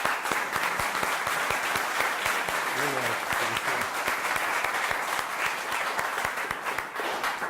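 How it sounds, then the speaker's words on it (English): Applause from an audience celebrating coding bootcamp students finishing their nine-week course, a dense, steady roar of many hands clapping that carries on for the whole stretch with no pause. "I think they deserve a big applause"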